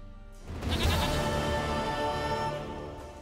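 A goat in the video game The Witcher 3 lets out one long, loud, wavering bleat close by, lasting a few seconds.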